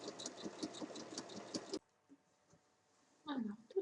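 A sewing machine stitches fabric for a large bag in a quick, even run of mechanical clatter for under two seconds, then stops; after a pause a voice speaks briefly.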